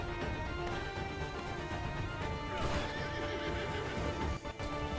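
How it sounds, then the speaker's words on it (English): A horse whinnies and neighs while hooves clop during taming in a video game, dense with game music or ambience and continuous throughout, with no talking. "You're taming the horse."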